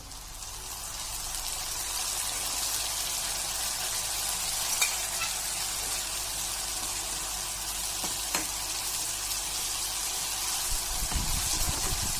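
Green spice paste hits a hot pan for spinach vadi bhaji and fries with a steady, loud sizzle. The sizzle carries on alone for the whole stretch, with a faint stir or clink of utensils now and then.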